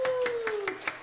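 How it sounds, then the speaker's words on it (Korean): Brief burst of hand clapping from a church congregation during a service, several sharp claps in quick succession with a faint tone running underneath. "자, 박수!"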